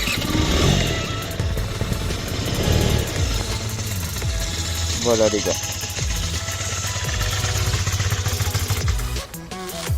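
A scooter engine starts and settles into a steady idle, a close mid-pitched rumble that carries on throughout, with someone briefly speaking French over it.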